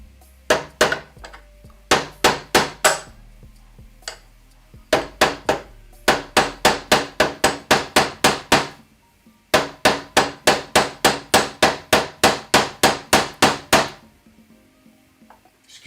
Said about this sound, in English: Excuse the hammering.